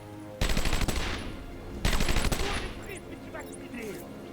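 Two loud bursts of rapid automatic gunfire in the Batman Arkham Asylum video game, each a dense volley that then trails off, followed by fainter sharp game effects.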